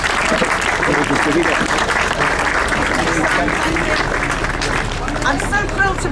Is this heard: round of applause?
yes